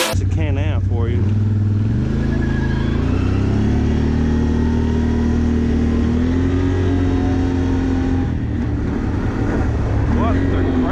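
A Can-Am XMR 570 ATV engine roars loud and near in a ditch, revving up and holding a strained, rising drone for several seconds, with a short voice at the start.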